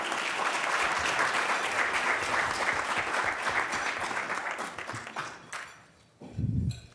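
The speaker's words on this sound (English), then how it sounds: "Please give him a round of applause as he comes on stage" Dense audience applause fills a conference hall at a panel on young agricultural and dairy workers, steady and loud for about five seconds, then thinning out as a voice briefly begins near the end.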